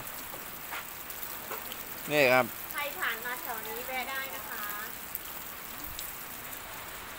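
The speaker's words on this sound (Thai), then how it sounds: "นี่ฝนตกจริงด้วยนะนี่อยู่ในนี่อยู่ข้างใน" Steady rain falls outside while people sit indoors at a roadside eatery, a soft continuous hiss running throughout beneath nearby talking.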